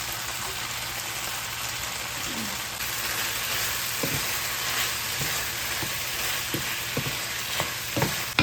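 Turkey and vegetables stir-frying in a pan with Mongolian-style sauce: a constant, close sizzle with occasional sharp utensil taps and scrapes as the food is stirred, more frequent toward the end.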